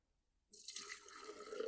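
Dirty fuel from a STIHL MS250 chainsaw tank pours into a glass, a steady close liquid trickle and splash that starts abruptly and runs on alone with no talk.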